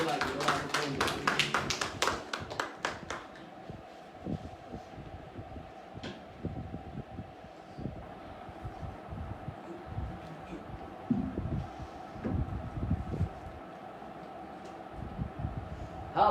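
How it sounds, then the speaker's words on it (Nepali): Church congregation at a Saturday service clapping loudly, a burst of dense rapid applause at the start that fades into scattered claps and knocks over a hum, with voices talking afterward. "जोडले हामी ताली दिउँ उहाँको कामको लागि, उहाँको प्रेमको लागि"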